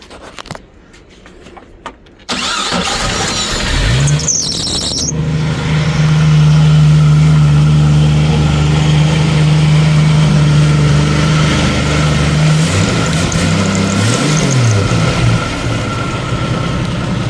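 A 1990 Jeep YJ with a 4.2L engine cranks briefly after a quiet start, then catches and settles into a loud, steady idle with a couple of small revs near the end.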